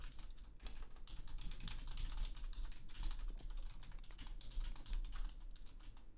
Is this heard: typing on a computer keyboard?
yes